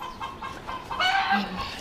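A rooster clucking close by in a short series of calls, rising into a louder squawk midway, with no talking.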